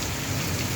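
Rain falls in a village, a dense, even hiss of drops striking surfaces, close and steady for a brief moment with no voices.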